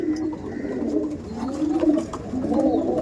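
Pigeons cooing in a pigeon loft, a steady chorus of low, rolling coos overlapping from several nearby birds with no talk.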